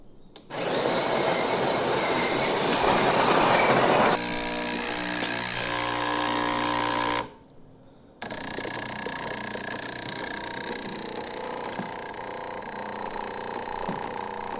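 A Jura coffee machine, freshly fitted with a replacement hose, runs loudly: a strong pumping whir, then a steadier humming stretch, a brief pause, and renewed grinding-pump noise continuing to the end.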